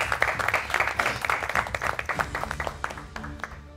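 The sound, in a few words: applause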